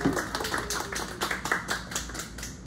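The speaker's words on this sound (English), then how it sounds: "let's give her a round of applause and welcome her" Sparse audience clapping welcoming a poet at a bookstore poetry reading: individual claps land in a quick, fairly even rhythm from a small group, moderately close.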